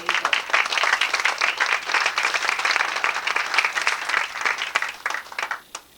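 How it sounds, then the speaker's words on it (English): Audience applause on a cruise gathering, a lively, sustained patter of many hands clapping close by that thins out and tapers off toward the end. "So I just want to give a round of applause to my friends and colleagues, Walt and Hazel"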